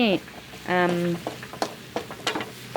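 Tomatoes and chopped ginger stir-frying in a pan give a steady, close sizzle with scattered scraping and clatter, while someone speaks briefly over the cooking.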